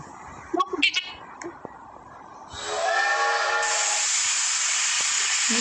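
A video game train in a toy shop escape game arrives with a rising steam hiss and a whistle-like tone that hold steady and loud, after a few brief voices.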